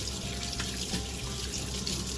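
Tap water runs steadily into a sink as greasy, bacon-coated hands are rinsed in a home kitchen, a continuous close hiss and splash with no talking.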